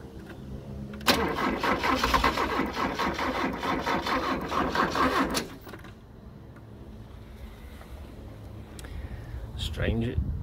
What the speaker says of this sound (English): try and crank the engine